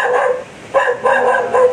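A dog barking outdoors after a storm passes, four loud close barks in a quick uneven rhythm, alone with no talk.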